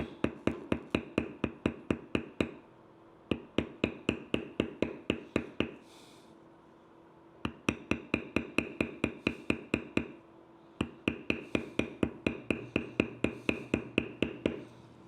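A mallet strikes a metal leather beveler on a canteen purse, in fast, even runs of sharp taps broken by brief pauses, close and crisp with no voices.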